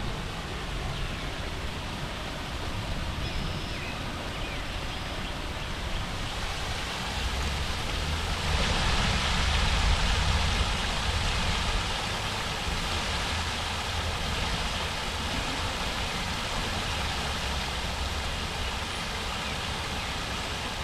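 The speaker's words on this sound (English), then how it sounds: "It's like a little waterfall." A small waterfall spills into a river in a gorge at Mill Creek Park, Youngstown, Ohio, giving a steady, dense rush of falling water that swells slightly midway and carries on alone without speech.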